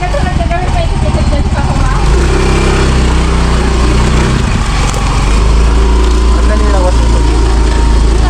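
A motor tricycle's small engine runs loud and close throughout, a constant buzzing drone with an even throb, with voices talking over it.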